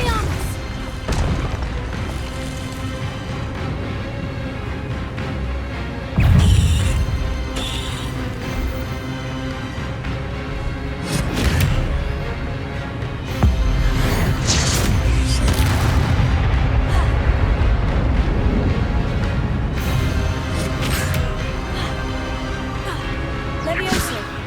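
Booming spell blasts and crashing impacts from combat in Hogwarts Legacy, a dense run of loud hits and bursts layered over a continuous game soundtrack.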